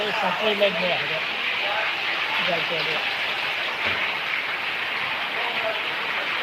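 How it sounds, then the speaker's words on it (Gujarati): Heavy rain pours in Patan, Gujarat, with a constant broad hiss while a person talks over it close by. "તમે જુઓ વરસાદ કેવો પડી ગયો છે"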